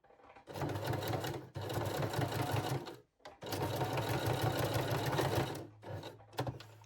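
A sewing machine stitches a loop onto a bralette, running forward and then backward in steady, rapid whirring bursts of needle chatter, with short pauses between passes and close, clear motor hum.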